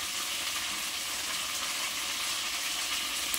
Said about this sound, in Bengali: দেখো আমি কচুরমুখীতে আলু দিয়ে ভালো করে কষিয়ে নেব